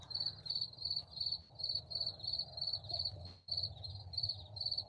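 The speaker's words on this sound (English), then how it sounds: "Got these moths and crickets." Crickets chirping at night, a close, steady series of rapid high trilled pulses repeating about every half second, with faint low rumble beneath and no talking.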